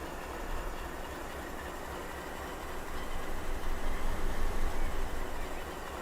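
A locomotive engine in the Run 8 train simulator game drones with a steady, thin mechanical rumble, swelling somewhat louder about halfway through before easing back slightly.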